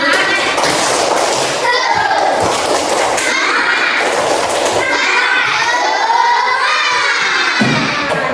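A group of children in a classroom chant and clap the tepuk semangat routine, loud shouted voices mixed with sharp hand claps and a teacher's voice.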